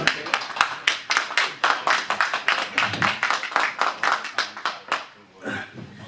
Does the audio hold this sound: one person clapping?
yes